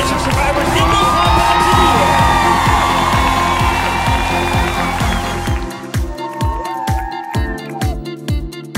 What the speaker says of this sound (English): let's give a big round of applause for all of our breast cancer survivors.